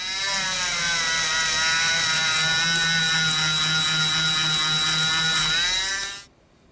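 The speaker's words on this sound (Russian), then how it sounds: "И самой мелкой наждачной бумагой вот таким вот образом обрабатываем, шлифуем." A screw head spun in a grinder collet and sanded with the finest sandpaper to a polished shine, a loud, steady high-pitched motor whine with a rubbing hiss that holds for about six seconds and then stops abruptly.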